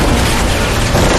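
Loud, dense roar of a fuel and bomb explosion in a film, a continuous close rumbling blast filling the whole moment.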